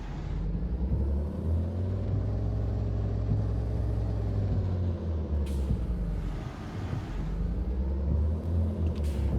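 A car passing in Farming Simulator 22, a steady low engine rumble and road noise, fairly faint, swelling and easing over several seconds with no voices.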